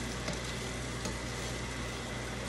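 Seasoned food sprinkled with garlic and onion powder fries in a pan and is stirred. The result is a steady, dense sizzle with soft stirring scrapes and no speech.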